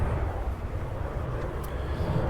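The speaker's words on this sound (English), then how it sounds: "So a TUI plane comes into land." A TUI passenger plane coming in to land over Ciudad Jardin in Palma, Mallorca, a broad, steady jet rumble that stays fairly loud and close throughout the short stretch.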